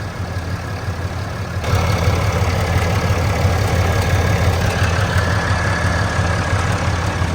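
A loud, close diesel engine of a 5th-generation Ram 2500 pickup idles with a steady low rumble and rapid ticking clatter, growing a bit louder early on, then holding even.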